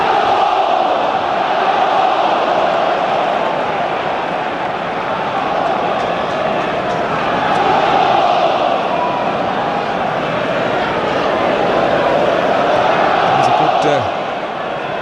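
A football crowd roars at Villa Park during Aston Villa against Manchester United in the Premier League, a loud steady wash of massed voices swelling and ebbing across the stadium.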